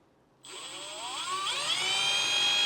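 A drill with a tiny bit bores into the shell material of a RIMOWA Classic Cabin carry-on: a thin motor whine kicks in abruptly and climbs steadily in pitch, alone and close.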